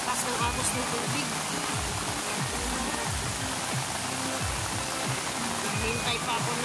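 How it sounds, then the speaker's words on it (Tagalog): Steady rushing river water fills the scene, a broad continuous roar of strong, fast-flowing current with low churning rumbles, close and constant throughout. "sobrang lakas ng agos ng tubig."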